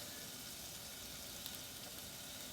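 Buffalo cheeseburger patties frying in a pan, giving a steady, fairly faint hiss and sizzle throughout with no talk.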